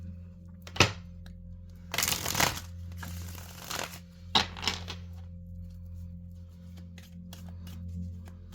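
Tarot cards being shuffled by hand, with two brief riffling bursts and a few sharp taps and snaps, soft and close against a quiet low hum, with no talk.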